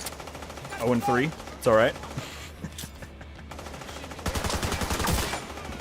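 Gunfire in the video game The Division 2 sounds as a burst of sharp rapid shots near the end, after someone speaks briefly and two rising whooshing tones sweep up earlier.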